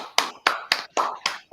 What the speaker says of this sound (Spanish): un fuerte aplauso entonces para Lorena.